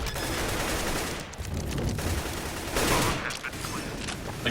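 Sustained gunfire in the Counter-Strike map Cache, rapid shots and wall-bang fire through a wall, dense and loud throughout with short breaks, under game noise.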